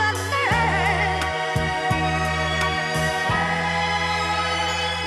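A chopped sample of a background choir in a hip-hop beat, with wavering sung voices over a deep bass line, cut off and restarted at several abrupt edits across a steady loop.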